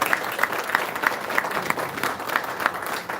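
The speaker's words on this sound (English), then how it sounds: "So give them another round of applause." An audience claps steadily for sponsors at a ceremony honoring outstanding Jamaican guidance counselors, a continuous even patter with faint regular accents throughout.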